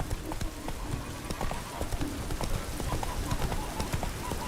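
Roach, the horse in The Witcher 3: Heart of Stone, gallops with a rapid, even beat of clip-clopping hooves. The hoofbeats stay close and steady above the background game sound, with faint voice-like sounds mixed in.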